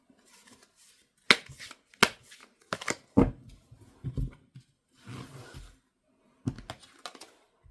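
Tarot cards being handled, shuffled and drawn, giving a series of sharp snaps and slaps at irregular intervals, with softer shuffling rustles between them, close and fairly loud with no talking.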